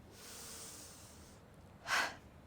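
Pranayama breathing during a yoga practice: a long, slow airy inhale through the nose lasting over a second, then a pause and one sharp, forceful exhale puff, close and alone.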